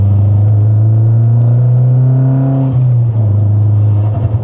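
Mazda 3 MPS hatchback with a torque-steering engine accelerating hard from inside the cabin, a loud steady engine drone whose rising harmonic climbs through a gear, dips at a shift, then resumes under continuous road rumble.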